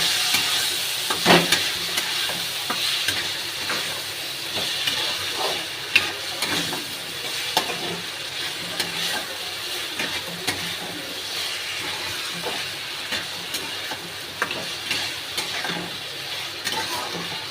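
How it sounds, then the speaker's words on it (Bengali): Ginger, garlic and onion paste with chili is stirred and fried in a pan, giving a continuous sizzle with frequent scraping stir strokes that land in a loose, steady rhythm, close and fairly loud throughout. "আদা রসুন পেঁয়াজের পেস্ট আর দেবো লঙ্কা, দিয়ে একটু ভালো করে নেড়ে নেব।"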